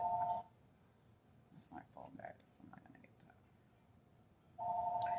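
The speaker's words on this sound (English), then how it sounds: "That's my phone ringing" Mobile phone ringing in a bursts pattern, a bright electronic tone at the start and again at the end, with quiet clicks and soft sounds between.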